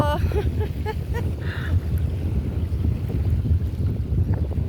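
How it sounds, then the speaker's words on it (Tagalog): Strong wind buffets the microphone with a constant low roar, with a few faint voices briefly audible in the background. "Sobrang mahangin"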